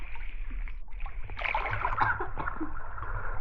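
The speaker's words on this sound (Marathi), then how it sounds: "ए लांब पाणी उडते अंगावर" Water splashing in an outdoor swimming pool, a broad hiss of churned water that swells into a louder burst of splashes midway, heard alone without clear talk.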